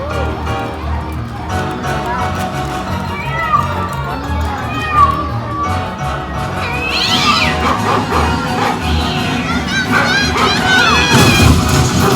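A kitten meows repeatedly amid a noisy crowd at the Animal Actors show at Universal Studios Hollywood, with children shouting and voices talking over the high, wavering cries.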